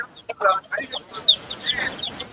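Chickens and roosters cluck and squawk in short, overlapping calls at close range at a Sunday market in Madurai, with voices murmuring in the background.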